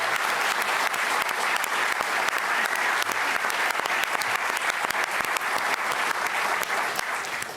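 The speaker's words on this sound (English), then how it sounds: "Give them a round of applause." Sustained round of applause from an audience at a Toronto mayoral candidates' housing debate, a dense, even roar of clapping held at full strength throughout.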